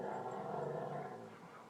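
Two boxer dogs, one big and one a puppy, growl steadily at close range as they play. The rumbling continues for about two seconds and eases slightly toward the end.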